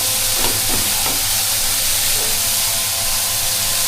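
Chopped green chillies frying in a pan on medium heat for a broccoli and mushroom soup: a steady, loud, hissing sizzle throughout, with a few soft stirring clicks near the start.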